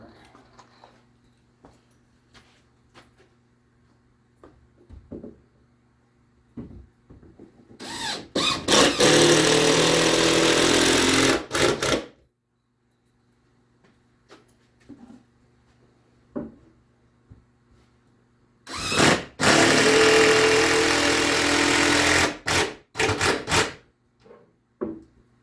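A power drill drives screws into a wooden hand tool cabinet in two loud, sustained whirring bursts of a few seconds each, with quiet handling knocks between them.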